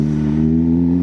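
A Suzuki GSX-R 750 sport motorcycle runs with its exhaust giving a loud, steady, even drone that holds close and unchanged throughout.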